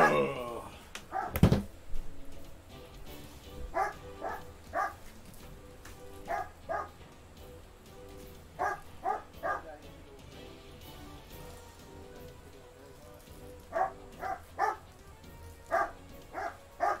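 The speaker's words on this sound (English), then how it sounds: "I gotta go deal with the dog." Dogs, a German Shepherd and a sheepdog, bark in repeated short clusters of two or three, somewhat distant and muffled, over steady rain-like hiss after a loud thump at the start.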